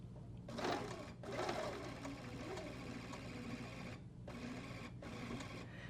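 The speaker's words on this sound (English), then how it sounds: "You're going to reinforce this by stitching with a very small stitch" A sewing machine stitches a continuous lap placket with a very small stitch, running in several short, quiet whirring bursts separated by brief pauses.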